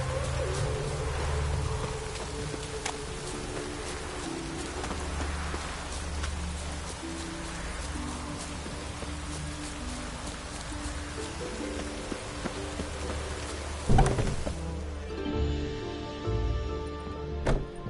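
Video game rain: steady rainfall patters on surfaces with scattered drips, birds cooing and calling in the background, and a brief thump near the end.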